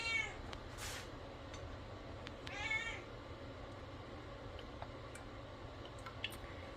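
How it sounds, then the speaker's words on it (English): A house cat meows a couple of times in a kitchen, short faint cries early on over a steady low background hum. "Sorry, my cat's meowing."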